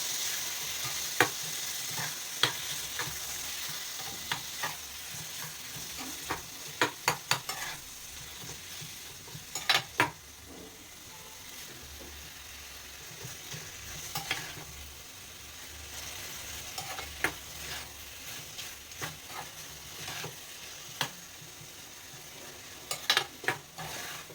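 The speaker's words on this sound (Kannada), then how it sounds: "ಅವಲ್ಲೇ ಮೂರು ಟೊಮೊಟೊ ಹೆಚ್ಚಿಟ್ಕೊಂಡಿದ್ದೀನಲ್ಲ ಅದನ್ನು ಹಾಕ್ತಾಯಿದ್ದೀನಿ ಇದಕ್ಕೊಂದು ಸ್ವಲ್ಪ ಉಪ್ಪು ಚೆನ್ನಾಗಿ ಮಿಕ್ಸ್ ಮಾಡ್ಕೊಬೇಕು" Chopped tomatoes with a pinch of salt are turned over in a hot frying pan, a continuous moist sizzle overlaid by repeated scraping and tapping strokes of a spoon, close and fairly loud throughout.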